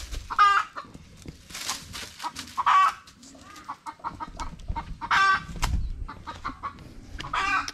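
Chickens cluck repeatedly in short, loud bursts close by, with newly hatched chicks nearby; a few sharp calls stand out over a busy farmyard background.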